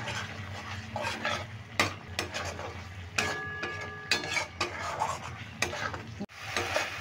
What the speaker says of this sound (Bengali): এটাকে দিয়ে আমি 1 মিনিট ধরে কষিয়ে নেব।